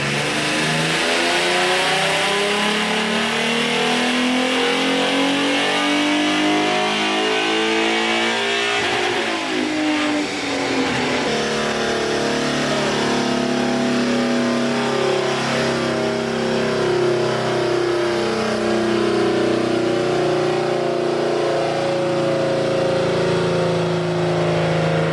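A 2011 Ford Mustang V6 revs hard on a dyno, its engine note sweeping steadily upward through a long pull, dropping sharply at a shift, then climbing again, loud and close throughout.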